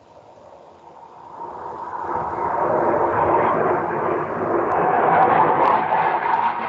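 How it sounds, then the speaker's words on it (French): A military jet passes overhead as a broad, distant roar that swells and stays loud, with no speech over it. "Il y a un avion à réaction, là, militaire, qui vient de passer au-dessus."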